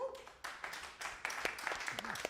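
A live radio-show audience at Red Barn Radio claps and applauds, a steady patter of many hands rising in bursts over a short stretch, with some voices mixed in.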